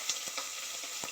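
Chilies and onions fry in hot oil in a pan, a continuous close hiss and sizzle with a few soft stirring clicks, and no talking.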